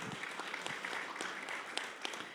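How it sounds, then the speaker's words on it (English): At a school budget forum at Springbrook High School, a modest audience applauds the school's team, with soft, scattered clapping and a few sharper individual claps standing out. "let's give them a round of applause"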